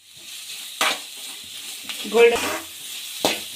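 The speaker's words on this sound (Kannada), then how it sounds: "ಹಸಿಮೆಣಸಿನ್ಕಾಯಿ ಹಾಕಿದ್ಮೇಲೆ ಈರುಳ್ಳಿ ಹಾಕ್ಕೊಳ್ಳಿ. ಕರಿಬೇವು ಒಂದು ಸ್ವಲ್ಪ ಹಾಕ್ಕೊಳ್ಳಿ." Onions, green chillies and curry leaves fry in a pan for a chicken curry, with a soft sizzle under several sharp scrapes and knocks of a spoon stirring against the pan.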